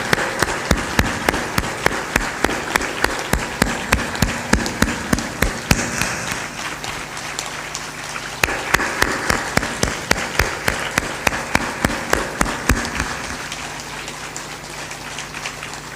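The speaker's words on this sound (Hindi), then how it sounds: "ताली बजा दो, बाबा जी जा रहे हैं।" A crowd claps in a steady rhythmic beat as a guru departs a religious discourse gathering, loud and sustained, slowing and thinning toward the end with no talk over it.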